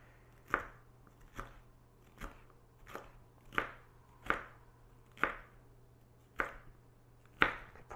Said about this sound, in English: So these are being sliced, so we're not dicing these.